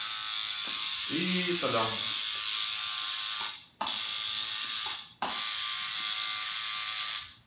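A tattoo machine being test-run, a loud close electric buzz that runs steadily, cuts off twice and restarts, with a short spoken remark from a man early on.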